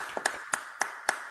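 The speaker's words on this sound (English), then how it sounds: "let's give him a round of applause" A few participants in an online meeting clap over their microphones, five sharp evenly spaced claps that sound thin and close, heard alone.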